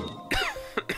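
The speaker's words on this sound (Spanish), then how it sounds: "Joder con la tos" A Spanish-speaking gamer playing Genshin Impact coughs into a close microphone, with a harsh rasping burst followed by two shorter sharp coughs.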